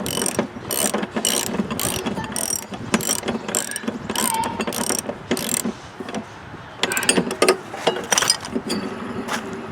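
A ratchet clicks rapidly in short bursts, its metallic ticking starting and stopping repeatedly as a bolt is tightened up close on a lawn tractor deck.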